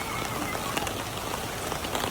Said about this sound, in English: it's rainy season, so it is raining